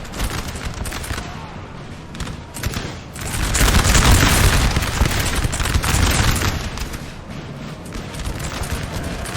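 Artillery fire and massed musket volleys in a Napoleon Total War battle, a dense rumbling roar of overlapping booms and crackling shots that swells loudly in the middle and continues throughout.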